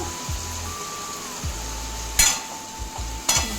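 Cluster beans curry ingredients frying in a pan give off a steady, soft sizzle, broken by two sharp utensil clanks against the pan near the end.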